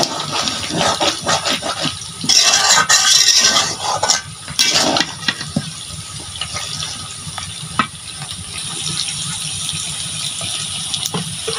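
Water is poured into a pan of duck curry with potatoes, a splashing gush over a low sizzle that fades to a quieter simmer.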